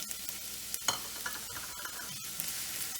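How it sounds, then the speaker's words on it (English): Onions frying in hot oil in a pan, a steady close sizzle with a few brief stirring scrapes. "We'll add the onions and fry it until golden."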